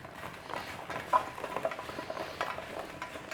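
Potatoes being tossed with salt and pepper in a bowl before roasting, soft scraping and clinking stir sounds at low level with a few sharper knocks, no talk.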